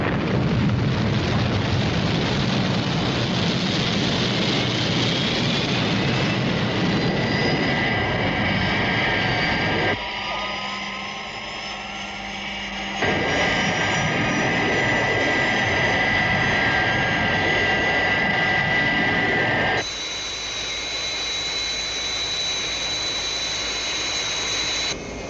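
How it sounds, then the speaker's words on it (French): A jet aircraft taking off in an animated series scene, a loud, sustained roaring engine with whining tones that shift in sections, with no talking. "Et il vient d'obtenir l'autorisation de décoller lui aussi."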